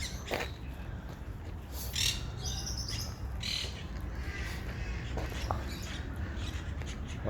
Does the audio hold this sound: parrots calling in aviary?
yes